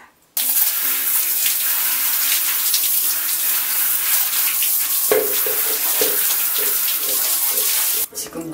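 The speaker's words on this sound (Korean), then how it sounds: "샤워기로 마구 분사를 한 상태인데요" Shower head spraying water onto a Sony SRS-XB2 waterproof Bluetooth speaker in a shower room, a loud, steady hiss of rushing water that starts abruptly and runs for several seconds before cutting off.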